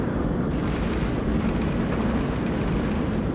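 Explosive rounds firing in the space game Starfield: a dense, continuous roar of blasts and rumbling detonations, loud and sustained with no pauses.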